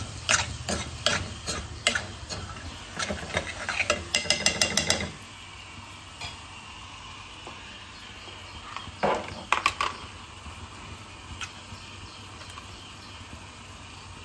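Crab goes into cooked masala and is stirred, with a burst of rapid scraping and clattering strokes in the pot early on, then quieter sporadic stirs over a low sizzle and background hum.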